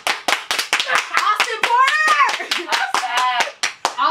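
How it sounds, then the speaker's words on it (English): A small group claps in quick, steady rhythm for a round of applause during a music video reaction, with voices calling and talking loudly over the claps throughout. "give him a round of applause"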